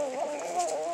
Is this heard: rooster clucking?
yes